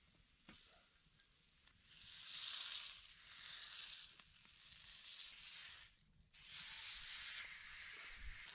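Pre-cooked king crab claws warming with butter over a fire, a steady hiss and sizzle that swells and fades in waves, close up with no talking.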